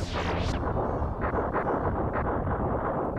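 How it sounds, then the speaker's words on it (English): Slow, booming explosions from the Star Fox 2 video game roll on continuously, a dense low rumbling with repeated muffled blasts and no talking over them. "Just very slow explosions."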